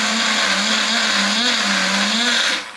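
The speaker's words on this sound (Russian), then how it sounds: "Все отправляем в блендер." A kitchen blender runs steadily, blending coconut shavings with warm water for homemade coconut oil; a loud continuous motor whir with a humming tone holds the whole time, then cuts off at the very end.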